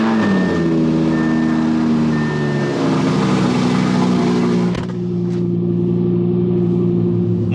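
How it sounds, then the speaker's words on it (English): A Mercedes-AMG C63 engine with a titanium exhaust cranks on a cold start after two weeks sitting, firing into a loud, rumbling idle with a deep exhaust drone, settling after a few seconds into a steady burble. "This is about to be a 2-week cold start with the B-Rogue titanium exhaust"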